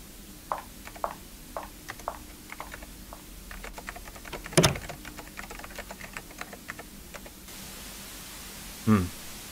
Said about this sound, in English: Just typing away at the computer?